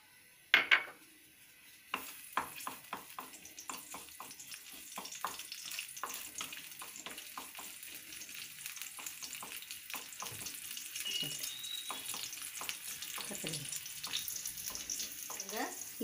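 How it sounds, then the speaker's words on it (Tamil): Pirandai (adamant creeper) dry roasting in a pan with ghee, a quiet steady sizzle broken by scattered clinks and scrapes of a spoon against the pan, opening with a couple of sharp knocks. "இதில் நம்ம எடுத்து வச்சுருக்கிற பிரண்டையை முதல்ல நல்லா ட்ரை ரோஸ்ட் பண்ணிக்கலாம்"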